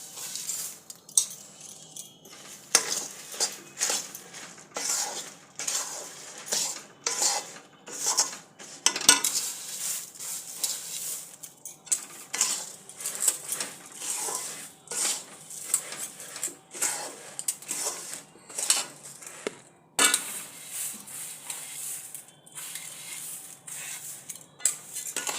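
A metal utensil stirs flattened rice (chira) in a pot, making a run of irregular scraping and clinking strokes up close, with short pauses between bursts and no talk.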